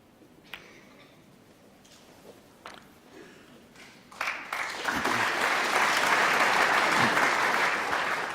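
Snooker audience at the 2016 Masters quarter-final between Judd Trump and Neil Robertson breaks into applause after quiet ticks and small sounds, rising to a steady, full round of clapping that holds to the end.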